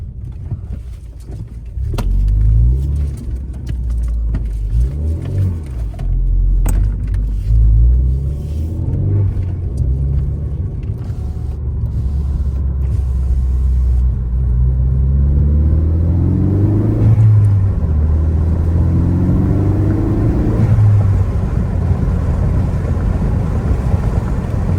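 A 2018 Ford Focus ST fitted with a green aftermarket air filter drives along, its engine a loud, steady low rumble that rises and falls with revs, with wind noise over the microphone and no talking.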